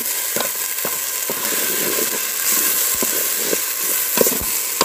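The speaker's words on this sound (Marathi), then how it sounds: "व्यवस्थित आपला आला लसूण पेस्ट आणि टोमॅटो तेलामध्ये परतून घेऊ का" Ginger garlic paste and tomato fry in hot oil for a Kolhapuri-style chicken gravy, a loud continuous sizzle and hiss with occasional spatters and stirring scrapes, no talking.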